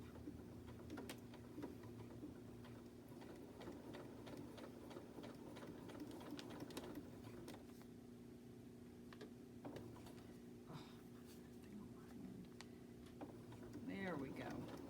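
Home sewing machine stitching fabric for a scrappy quilted bunny, a faint steady mechanical whir with rapid ticking, running continuously at low level with light handling noises.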